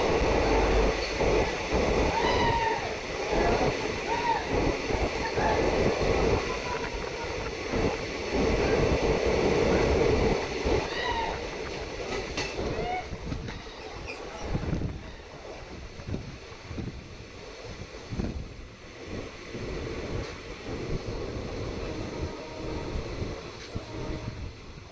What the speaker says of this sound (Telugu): ఫ్రంట్ వచ్చేసి ట్రైన్ చలమ రైల్వే టన్నల్లోకి అయితే ఎంటర్ అవుతుంది.